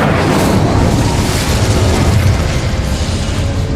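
A fiery Incendio spell blast in the video game Hogwarts Legacy, heard as a loud, dense, continuous roaring whoosh that holds steady for almost four seconds with no voices over it.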